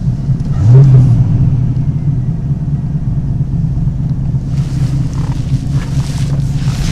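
A TVR Griffith 430 V8 sets off with a deep, steady low engine rumble and a brief swell near the start, close and continuous, with faint wind-like hiss building later.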